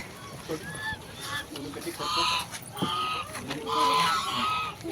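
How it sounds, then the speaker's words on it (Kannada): Ducks call with honking, quacking cries near water, in short repeated bursts that come close and fairly loud, with a person talking faintly in between. "ಡಕ್"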